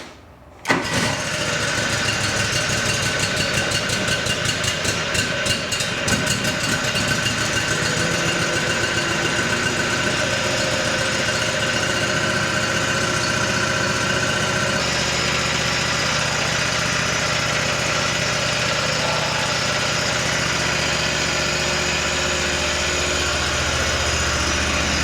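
A Wheel Horse 520 LXI lawn tractor with an FD620 engine starts up and settles into a steady, loud idle close by. Its tone drops slightly partway through, and no one speaks.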